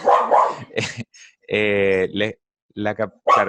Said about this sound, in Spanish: Disculpen mi perro,